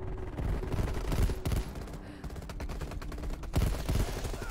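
Rapid gunfire from Call of Duty: Cold War multiplayer, MP5 among the weapons: dense bursts of automatic shots from several directions, sharp and close, overlapping continuously with heavier volleys near the start and end.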